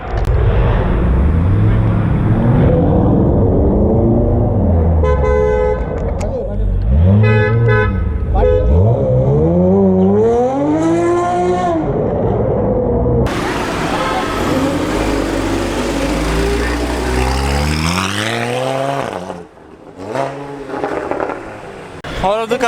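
Loud Porsche 911 GT3 RS engine starting and revving hard at a supercar event, sweeping pitch rises under a noisy cheering crowd, with horns and other cars around and people talking.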